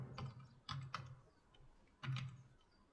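Keys tap on a computer keyboard during work in Blender, a few quiet close clicks in short clusters separated by brief pauses.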